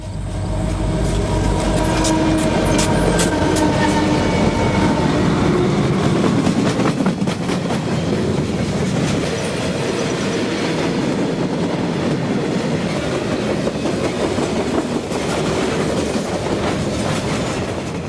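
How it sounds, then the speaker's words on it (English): CSX manifest freight train passing near Sulphur, Kentucky at about 40 mph, a loud continuous rumble with rhythmic clickety-clack of wheels over rail joints and faint wheel squeal, no talk. "A manifest freight pushes the 40-mile-per-hour speed limit near Sulphur,"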